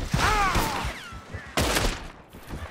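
Gunfire in the video game Red Dead Redemption 2, loud close blasts and a burst of shots amid a chaotic gunfight, with whistling and clattering effects between them.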